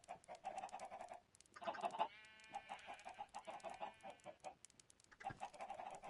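Chickens and a baby chicken in the video game Minecraft, with repeated short clucks in quick bursts, one run of stacked calls partway through, and gaps between bursts, fairly quiet overall.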